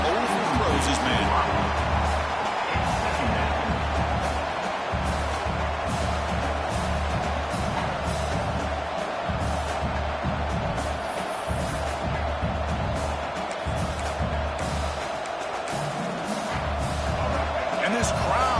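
Stadium crowd noise in a college football video game, Rutgers versus Baylor, a broad continuous roar swelling as the defense tries to get a stop, running steadily under play-by-play commentary.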